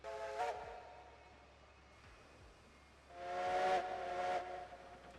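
A steam locomotive whistle in the Railroads Online railroad game sounds in two long, hissing harmonic blasts, the second louder and separated by a quieter stretch of steamy background.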